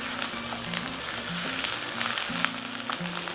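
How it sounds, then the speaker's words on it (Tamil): Ginger garlic paste with mustard seeds and curry leaves frying in oil for an egg roast masala, a continuous close sizzle with light spattering pops, heard alone over a faint tonal background hum. "இஞ்சி பூண்டு பேஸ்ட் இதில் போட்டு ஃப்ரை பண்ணிக்கலாம்"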